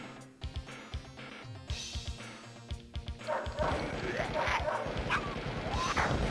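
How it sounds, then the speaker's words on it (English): Zombie dogs in an SNK arcade shooter bark in sharp repeated yaps over game music and gunfire effects, followed by a denser, busier stretch of in-game action. "Oh man, we got zombie dogs."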